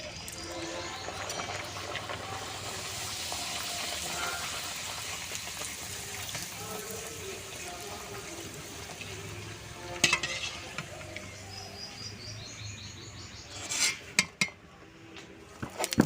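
Flour luchi frying in hot oil in a kadai, a continuous bubbling sizzle with occasional stirring and utensil clinks, louder knocks and scrapes near the end.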